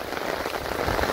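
Steady rain falls on surfaces in a village, a dense even patter heard close with no voices.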